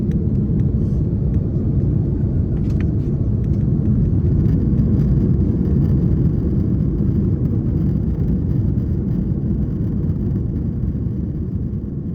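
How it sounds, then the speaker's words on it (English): A Delta airliner takes off from New York's JFK Airport bound for London Heathrow. The engines produce a loud, steady, deep roar and rumble that fills the whole stretch without a break. "Taking off out of New York's JFK Airport, we begin our 7-hour flight over to London Heathrow."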